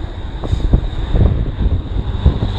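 Strong mountain wind buffets the microphone in a steady, loud roar with gusty bursts, foggy peaks on a September cycling loop in the Beskids, no voices over it.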